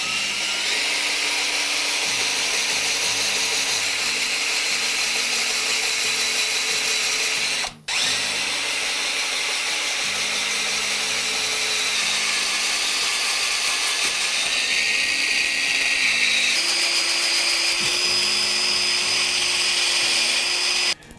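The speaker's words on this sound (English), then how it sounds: "let's get back to it and drill the rest of the holes" A power drill fitted with an 18.5 mm bit bores holes in wood for a handmade coin sorter, a steady loud whine running continuously with one brief break midway and no talk.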